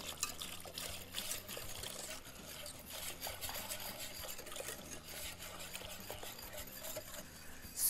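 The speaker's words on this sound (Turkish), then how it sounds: "İki litre sütü de yavaş yavaş şekerin üstüne ilave ediyorum." Two litres of milk poured slowly onto sugar in a home kitchen, a steady, fairly quiet trickle with faint stirring clinks, continuous and heard alone.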